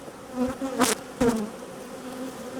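Angry honeybees buzzing around a hive being requeened, a close droning hum with a few sharp louder passes as individual bees fly right by.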